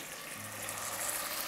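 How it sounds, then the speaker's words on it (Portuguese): Hot water splashes into a pan of frying chicken for a galinhada with pequi, a close gushing pour that turns into steady hissing sizzle for a brief moment, with nobody talking. "você pegar uma água quente, coloca aqui pelo ladinho, mas só um pouquinho"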